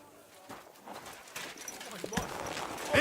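A horse's hooves clip-clop at a walk in the video game Kingdom Come: Deliverance 2, irregular thuds growing louder toward the end, mixed with a spoken voice and faint ambient game sounds.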